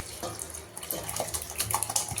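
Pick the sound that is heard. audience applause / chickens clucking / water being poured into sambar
water being poured into sambar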